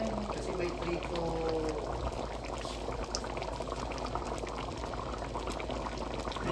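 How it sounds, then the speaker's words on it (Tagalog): Pork menudo bubbles at a steady boil in a pot, a continuous close simmering gurgle with a voice briefly speaking over it. "Ay guys, oh, kumukulo na yun."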